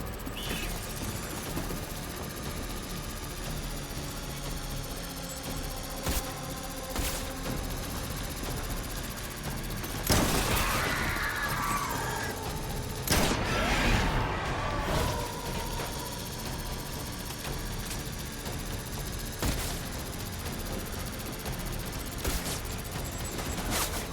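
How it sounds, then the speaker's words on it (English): Gunfire in the video game Death Stranding, with bursts of shots breaking over a steady engine-like drone, the loudest volleys clustered near the middle and scattered single cracks elsewhere. "they're shooting from somewhere"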